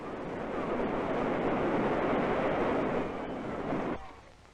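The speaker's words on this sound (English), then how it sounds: "On hot summer days, an opened fire hydrant is the city child's substitute for wading in a cool," A steady, loud rush of water sprays from an opened fire hydrant on a hot summer day in 1949 New York City, holding a broad hiss for about four seconds before cutting away abruptly.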